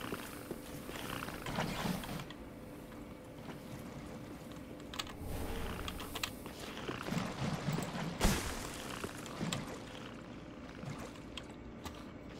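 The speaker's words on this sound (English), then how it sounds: "It's purring." A creature in the Dark Souls video game purrs like a cat, a low, faint, continuous rumble with soft clicks and rustles over twelve seconds.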